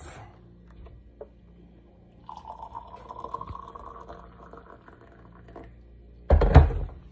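Boiled hot water poured into a container in a kitchen, a steady rising fill tone lasting several seconds, ending in a sudden loud thunk near the end.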